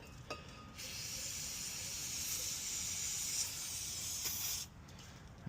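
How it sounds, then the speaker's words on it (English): Brake cleaner sprayed onto Nissan Stagea rear brake caliper parts: a single sustained aerosol hiss lasting about four seconds, close and fairly quiet, starting and stopping abruptly. "I will be spraying these with brake cleaner"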